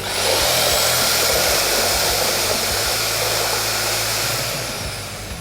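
A loud Tekh.AS TA-01-240 electric paddle mixer whirs steadily while churning through a bucket of water, a continuous motorized roar that eases off slightly toward the end.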